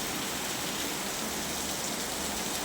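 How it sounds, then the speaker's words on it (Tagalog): Heavy afternoon rain pours down in a dense, constant hiss, loud and close, with no pauses or voices. "Ulan na."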